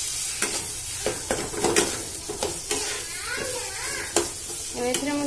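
Chopped tomato stirred into sizzling masala in a hot pan: constant frying hiss with repeated scraping stir strokes and clinks, and a brief voice-like tone near the end.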